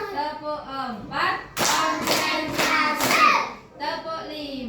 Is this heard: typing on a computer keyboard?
no